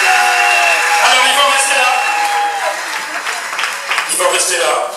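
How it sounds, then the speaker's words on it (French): Wedding guests applaud steadily, the clapping loud and continuous with voices and music running over it. "On les applaudit très très fort, mesdames, mesdames et messieurs, on les applaudit."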